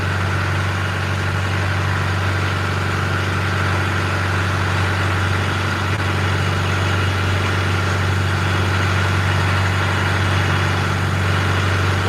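Steady drone of a boat engine cruising at about 5.5 knots at night, a constant low hum and rumble that stays even throughout with no talk.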